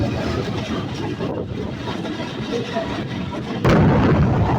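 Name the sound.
Nakshikantha commuter train leaving Mawa rail station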